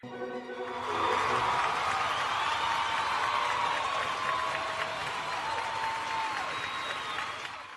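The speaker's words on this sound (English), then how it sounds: "Alright, give a round of applause to all of the great traders over here." An audience applauds traders at a trading event session, with a dense, sustained wash of clapping that swells quickly and holds steady before tapering, heard at a moderate distance.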